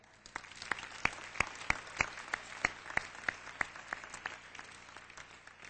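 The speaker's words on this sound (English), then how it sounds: "you deserve a round of applause" A ceremony audience breaks into applause, with distinct sharp claps standing out in an irregular rhythm over a softer background patter, fairly quiet and without talk.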